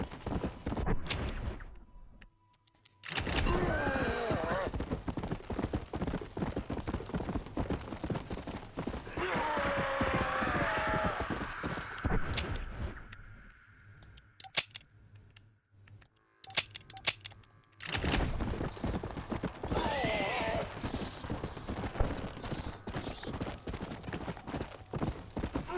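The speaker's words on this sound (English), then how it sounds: "I heard a horse." Horse hooves clop in a steady rhythm through much of the Red Dead Redemption gameplay, with a couple of whinnies rising above them. Game ambience and effects fill the gaps, and a quiet pause falls midway.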